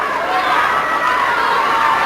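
A packed standing-room crowd at a 1970s Nashville wrestling match in the Fairgrounds Arena, sustained loud cheering and shouting filling the hall, with voices mixed in.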